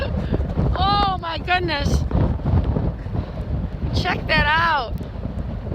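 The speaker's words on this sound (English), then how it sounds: "We're in Frankfort, Michigan, and it's super windy." Strong wind buffets the microphone steadily at Frankfort, Michigan, a loud, constant roar throughout, while people speak excitedly over it.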